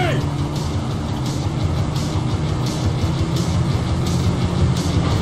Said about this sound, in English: And here she is, the magical train.